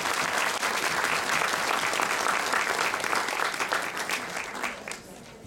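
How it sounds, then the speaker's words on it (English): Dense, even applause from an audience at a leadership awards nominee announcement, a full room clapping steadily before tapering off near the end. "Another round of applause."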